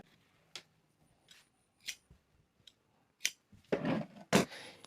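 Scissors cutting fabric for a kameez, a series of separate crisp snips close up, sparse at first, then quicker and louder strokes near the end, with no voices.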